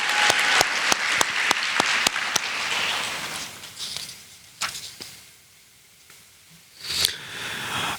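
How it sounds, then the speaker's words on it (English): Applause rings out from an awards-ceremony audience honoring a sports inductee, a dense burst of clapping at the start that thins into a few scattered claps and quiet. "please congratulate and big round of applause for Mike Bono"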